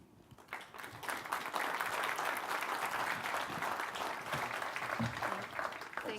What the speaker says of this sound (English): And can you please give Dr. Finkel another round of applause?